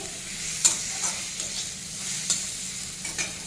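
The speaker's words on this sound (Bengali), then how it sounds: "একসঙ্গে ভালো করে ভেজে নেব মশলাটা প্রথমে একটু লো ফ্লেমে ভেজে নিতে হবে" Spice paste fries gently over a low flame, a soft, steady sizzle close by with occasional light stirring taps from a spoon.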